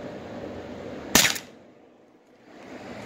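A Crosman 3-inch air revolver, tuned with a modified frame, fires a single sharp, loud pop shooting 7.9-grain pellets, cutting through steady background hiss and then trailing off into quiet.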